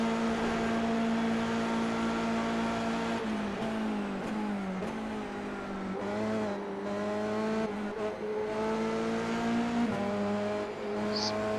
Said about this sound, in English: Spinning up the rears there a little bit.